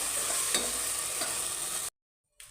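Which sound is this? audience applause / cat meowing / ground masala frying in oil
ground masala frying in oil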